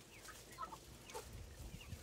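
Hens panting quickly in hot weather give soft, faint clucks and short calls, scattered over a low steady background with no voices.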